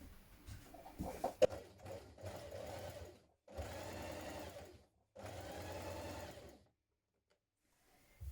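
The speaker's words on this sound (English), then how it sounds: "Now with your pocket in position, edge stitch it in place." A sewing machine edge stitching a pocket onto a dress runs in three close bursts of rapid even stitching, separated by short pauses, then stops and goes quiet.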